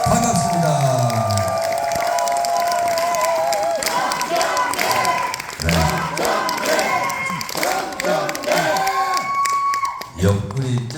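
A large crowd at a Democratic Party convention meeting in Sejong claps and cheers loudly and continuously, with shouts and whoops rising above sustained applause that briefly dips and swells again.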